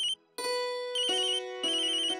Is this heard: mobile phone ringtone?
yes